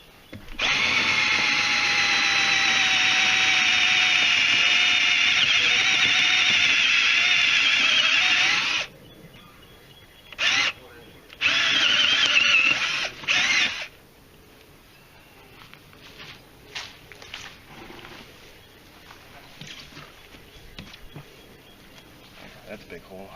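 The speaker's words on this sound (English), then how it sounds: "So I'm going to drill a hole here and rotate it." A power drill bores steadily through a tractor tire for several seconds, loud and close, then stops and gives a few short bursts before falling away to quiet handling sounds.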